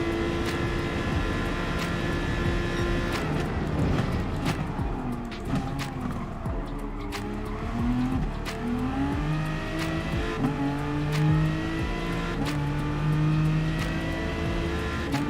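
A race car engine in Gran Turismo Sport drones continuously and loud, its pitch rising and falling through gear changes and revs during an online race, with no pauses.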